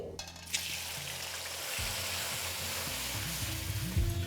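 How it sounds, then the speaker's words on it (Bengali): About a teaspoon of black cumin hits hot leftover fish-frying oil while cooking a light rui fish curry. A steady, close crackling sizzle runs throughout, with soft stirring and faint low background tones. "মাছ ভাজার তেলেই আমি এখানে দিয়ে দেবো 1 চা চামচ মতো কালো জিরে"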